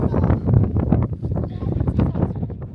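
Gusty wind on a mountain summit buffets the microphone in a low, rumbling roar that swells and fades in uneven pulses, loud and close throughout.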